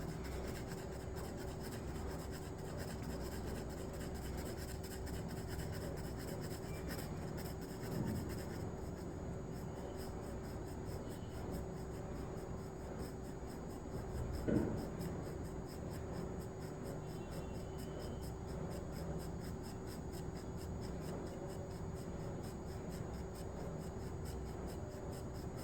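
Pencil shading strokes on paper while sketching a tattoo design, a soft continuous scratchy rubbing that runs steadily throughout with light, close strokes and no talking.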